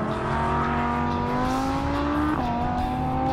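A 2016 Audi R8 V10 Plus screams at high revs on a racetrack, a loud, close, rising engine note that climbs steadily before a sharp gear change drops the pitch and it pulls up again.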